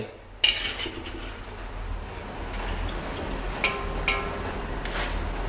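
Crisp Thai quail-egg snacks being scooped from hot oil: metal utensil clinks and taps against the pan over a soft, steady sizzle, close by, with a few distinct sharp knocks.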